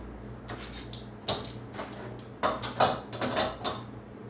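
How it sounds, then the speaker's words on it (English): Clamps and a board clatter and clunk on a cheap, sturdy workbench, a string of sharp knocks and ratcheting clicks close up, with no talk. "So if I have a strange board, whatever, I can just clamp it down."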